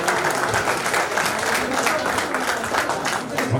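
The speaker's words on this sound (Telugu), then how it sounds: "Claps claps claps." An audience at a municipal high school batch reunion applauds with steady, dense clapping throughout, mixed with crowd noise and talk.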